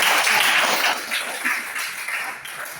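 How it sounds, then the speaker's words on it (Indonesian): Group applause from a class of students at the close of a religion lesson, a dense steady clapping that fades slightly after the first second and continues evenly without voices. "kita berikan aplaus kepada kita"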